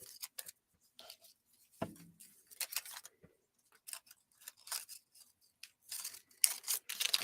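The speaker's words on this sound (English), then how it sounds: "And we're going to cut these tails." Scissors snip the tails of a ribbon on a handmade card, a series of quiet, close, irregular clicks and short crisp cuts separated by near-silent gaps.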